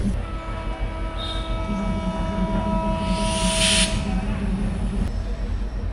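A Kanchan Commuter train locomotive heard from inside the engine cab hums with a steady diesel drone and rail rumble, with a burst of hissing air for about a second midway.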